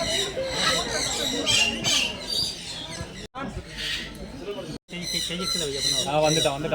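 Birds perched on visitors at a Yelagiri tourist spot squawk loudly and repeatedly in close, overlapping bursts, with people talking throughout.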